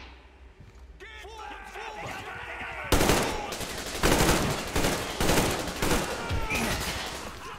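Heavy bursts of gunfire in Metro Exodus, loud rapid volleys starting partway in and repeating in clustered bursts after speech and a shout.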